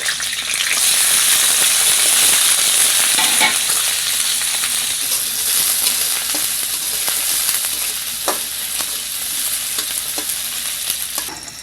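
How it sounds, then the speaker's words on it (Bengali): Chilies, garlic and onions fry in hot oil in a wok, giving a loud, steady sizzle that runs without pause, with occasional scrapes and clicks from stirring. "কড়াতে দেব দিয়ে দেব তেল এবারে কেটে রাখা মরিচ রসুন পেঁয়াজগুলো একটু ভেজে নিব"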